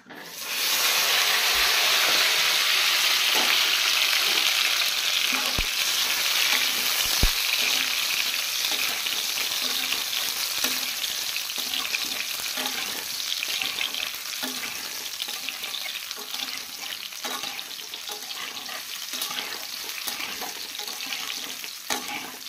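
Vegetable pieces fry in oil over a gas flame, starting with a loud hiss as they hit the pan, then settling into a steady bubbling sizzle with occasional utensil clicks, close up and alone.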